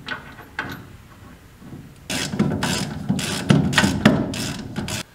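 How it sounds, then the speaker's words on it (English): A ratchet bolting a brake caliper to the intermediate plate of a classic Ford Mustang, first a few faint clicks, then a loud run of rapid ratcheting strokes in quick bursts. "Slide it over and we'll bolt it into the intermediate plate in the back."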